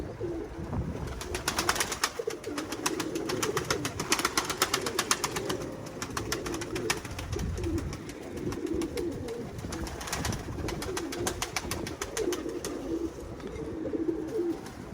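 Pigeons coo in a steady, low murmuring chorus, with soft fluttering and scratchy rustles throughout, fairly close and continuous.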